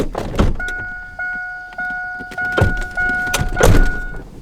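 A truck's door-open warning chime with the keys left in the ignition rings as a steady run of repeating electronic tones, with a few thumps and rustles of movement around it.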